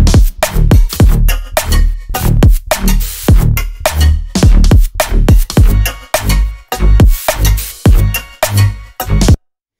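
A loud electronic music drop from a remix, with heavy punchy bass hits and sharp stuttering chops in a choppy, gated rhythm that ends abruptly in silence.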